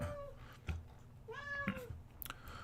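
A cat meows close by, two or three drawn-out, rising and falling cries with short pauses between them, over a low steady background hum and no talking.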